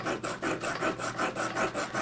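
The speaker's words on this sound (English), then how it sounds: "once you're done filing" A hand file rasps back and forth across a silver piece in steady, even strokes, about eight rhythmic scrapes in quick succession, close up and fairly quiet with no talking.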